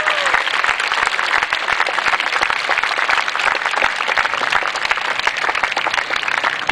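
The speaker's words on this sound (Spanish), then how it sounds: "Creo que se merecen un fuerte aplauso todos ellos por ese esfuerzo." Audience applause at a school event for a secondary school's new dining hall, a loud continuous crackle of many hands clapping, steady and close throughout.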